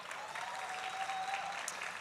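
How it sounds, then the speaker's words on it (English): Applause at the unveiling of a 54-foot Shiva statue in Mississauga, honoring the sculptor: a steady, dense round of clapping from a crowd, sustained evenly for the whole stretch, with a faint tonal whine running through part of it. "A round of applause to the sculptor"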